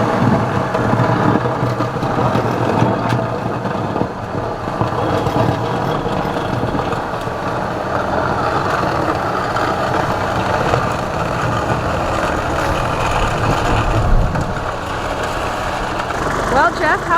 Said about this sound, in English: Maybe you should turn off the tractor. It's kind of noisy.